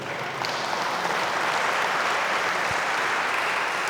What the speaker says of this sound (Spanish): Darle un aplauso a las mujeres.